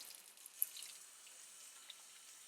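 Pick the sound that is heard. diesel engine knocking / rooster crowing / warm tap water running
warm tap water running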